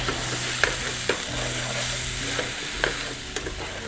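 Green chillies and curry leaf sprigs fry in hot oil for a Telugu prawn and ivy gourd curry, a continuous close sizzle with intermittent scraping stirs and small pops, no voices.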